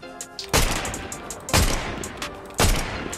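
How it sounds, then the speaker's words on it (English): Gunfire in a Fortnite match during a competitive cup game: three loud, sharp shots or short bursts spaced about a second apart, each followed by a brief decay, with no talking over them. "Heard shooting."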